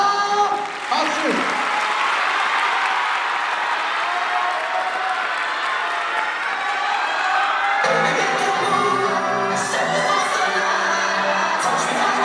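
Audience applause and cheering greet team Aurora at a baton twirling event, loud crowd noise with whoops and shouts that carries on steadily, with music rising near the end.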